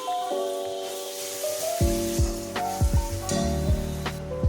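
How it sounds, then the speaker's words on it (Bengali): Prawn pulao masala with tomato puree frying in a pan as it is stirred, a soft, fairly quiet sizzle with intermittent scraping strokes under a melodic backing. "দিয়ে ভালোভাবে নেড়ে নেব"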